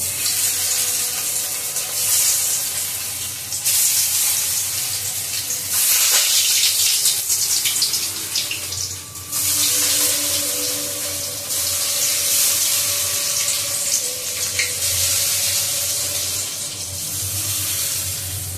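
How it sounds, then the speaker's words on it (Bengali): Capsicum and onion fry in a wok, giving a loud, sustained hiss of steam and sizzling oil that swells and dips in waves over a long stretch, with short pauses as the pan is stirred. "ক্যাপসিকাম, পেঁয়াজ যখন ভাজা হয়ে যাবে"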